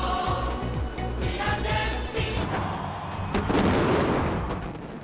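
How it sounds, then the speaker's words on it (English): New Year fireworks over the buildings of the Bund in Shanghai, heard as a dense run of booms and crackling bursts with rumbling thuds, loud and continuous, growing denser toward the end. "A spectacular light show and fireworks display illuminated buildings on the Bund in Shanghai."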